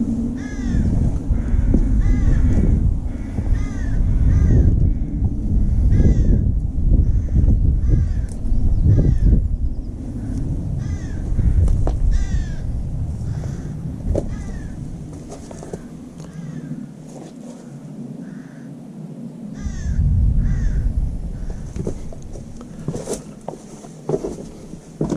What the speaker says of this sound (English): Listen to the cack of the crows.